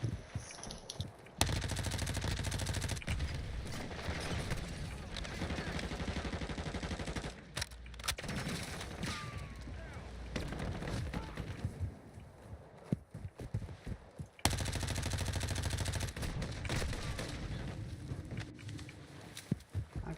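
A fast gun fires in Call of Duty in dense rapid bursts, loud and near, broken by short pauses. Scattered footsteps and game noise sit between the volleys.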